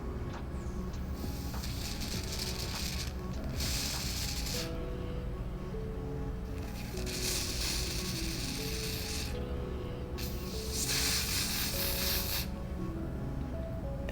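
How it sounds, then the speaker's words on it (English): Bursts of hissing hair spray sprayed onto a wig come in several pulses of a second or two each, over a steady background hum. "And now I'm gonna spray it down."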